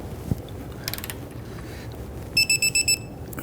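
A torque wrench tightens a subframe bolt to 159 foot-pounds on the rear suspension of a 2010-2019 Ford Taurus, with a few scattered metallic clicks and then a quick run of about five sharp ratcheting clicks near the end.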